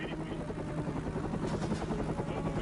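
Steady, loud helicopter rotor and engine drone from inside the cabin of a military helicopter flying into Iraq, a continuous dense roar with rhythmic blade chop throughout.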